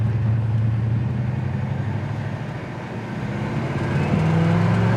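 Steady idle of a 1972 Chevy Nova's 307 V8 with a two-barrel carburetor, a low continuous rumble held close and even for the whole stretch, with a slight dip and then a small rise in revs near the end.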